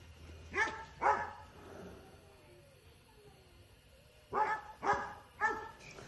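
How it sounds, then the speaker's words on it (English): Dogs in Mexico bark in bursts, two sharp barks near the start and then a run of three or four more several seconds later, moderately close, with a quiet gap between the bursts. "I wish I could shut the dogs up, but maybe it's a good background sound."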